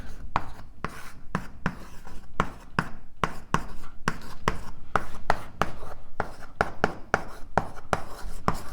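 Chalk or pen writing on a board during an advanced cosmology lecture, a close run of quick scratchy strokes and taps in irregular bursts, with short pauses between.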